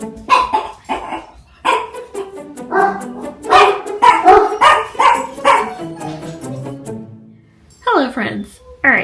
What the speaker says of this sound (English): you guys might hear dogs in the background